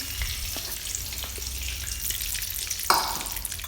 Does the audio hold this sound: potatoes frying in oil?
yes